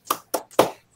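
A classroom group performs a short clapping routine, three quick loud claps in a brisk rhythm with nothing else heard.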